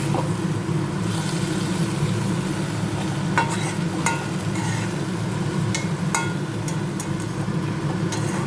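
Red spinach seasoned with salt and turmeric is stirred in a pan over a steady sizzle, with a few sharp scrapes and clicks of a utensil against the pan heard up close, no voices.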